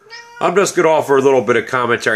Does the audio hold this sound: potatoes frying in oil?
no